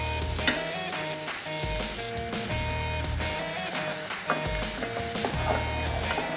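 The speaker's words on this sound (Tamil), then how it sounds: "மஞ்சத்தூள் போட்டு கொஞ்ச நேரம் வதக்குங்க அந்த தக்காளிலாம் வந்து கொஞ்சம் வதங்கட்டும் நல்லா வதக்கி விடுங்க" Tomatoes with turmeric sauté in plenty of sesame oil for a pepper-cumin kuzhambu, a steady broadband sizzle running continuously beneath tonal background music.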